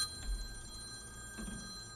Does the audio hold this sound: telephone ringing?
yes